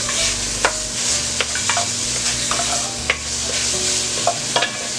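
Sausage frying in a pan for dirty rice: a steady hiss and sizzle, with a spoon or spatula scraping and tapping against the pan every second or so, close up and with no talking.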